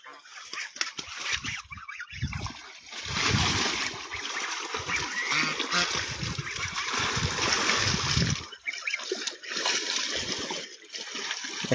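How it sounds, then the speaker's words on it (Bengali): Ducks dive and splash in a village pond, sending bursts of close splashing and churning water that come and go, with occasional fowl calls mixed in. "এখন হাঁসগুলো কি পানির ভিতরে ডুবাডুবি করতেছে"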